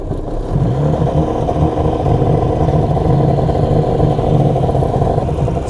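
An XPL 951 jet ski engine with a Mikuni Super BN 46i carburetor idles on the shore of a lake, warming up with a loud, steady, rough rumble that holds even throughout.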